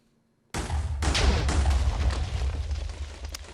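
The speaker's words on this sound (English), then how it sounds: "There we go, hot tub bomb." A TNT hot tub bomb in Minecraft goes off after a moment of near silence, a sudden loud blast followed by a rumbling cascade of further explosions that roars on steadily.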